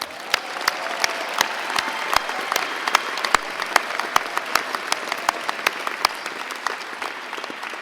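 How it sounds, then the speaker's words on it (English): A university graduation audience applauds the graduates, with sustained, even clapping from a large crowd filling the hall at steady volume and no talk over it. "they deserve a warm round of applause"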